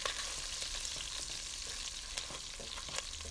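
Pork frying in a pan for ginataang laing gives a steady, close sizzle with faint crackles throughout and occasional louder pops, without any voices.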